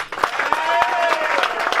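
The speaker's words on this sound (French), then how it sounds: "Une acclamation pour les mariés." A wedding crowd cheers and claps for the newlyweds, with sharp bursts of clapping and raised voices rising together, fairly loud and lively.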